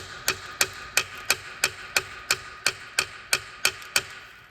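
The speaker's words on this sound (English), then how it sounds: "What I'm gonna do now is just take an extension and I'm gonna line it up here and just tap it in" Metal extension being hammered into a rusty rear differential drain plug on a 2011 Honda CR-V, a steady series of about a dozen sharp, evenly spaced metallic taps close by, with no talking.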